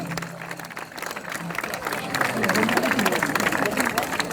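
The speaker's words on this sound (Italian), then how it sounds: "Tenore Sprazzamanna, Mamoiada, applauso, vai!" An audience applauds the Sardinian tenore group Tenore Sprazzamanna of Mamoiada at a folk performance: sustained, dense clapping mixed with crowd murmur, swelling louder midway and holding steady to the end.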